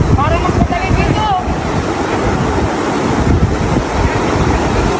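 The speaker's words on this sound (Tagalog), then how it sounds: "Doon tayo sa mababaw, malakas ang alon dito." Strong waves break and surge continuously along a shore, loud and close, with heavy wind rumble across the microphone.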